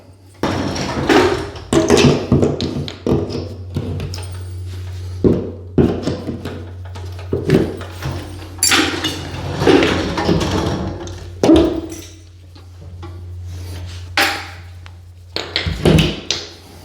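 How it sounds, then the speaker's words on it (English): A claw hammer pries a nail out of drywall during flooring prep at home, giving a series of close, irregular taps, thuds and scraping knocks spread across the stretch with brief pauses between them. "use your pressure point the lowest you can and just pull the nail out"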